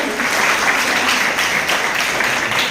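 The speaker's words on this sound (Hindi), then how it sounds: "तालियां बजती रहनी चाहिए" Audience applause at a women's college event in India honouring newly formed student council office-bearers: dense, steady clapping from a crowd, fairly loud and continuous throughout.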